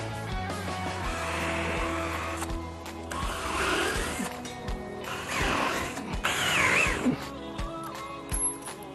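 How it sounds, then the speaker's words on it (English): A power drill bores pilot holes at marked points to mount the brackets of a FLEXIMOUNTS GL1 lift rack, in short whirring bursts with clattering and handling noise between them. "I'm going to drill a pilot hole at the center of each marked point"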